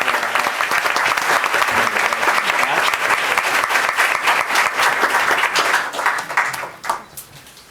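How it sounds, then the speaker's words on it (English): An audience at a school board of trustees meeting gives a student a round of applause, loud and dense, continuing steadily for several seconds before dying away into a few scattered claps. "Let's give him a round of applause."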